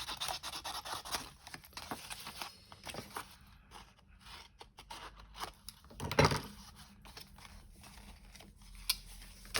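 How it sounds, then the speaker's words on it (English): Scissors snip bits off a piece of card in a series of small, close, crisp cuts and rubs, with one sharper, louder snip partway through and no talking. "Let's snip these bits off again."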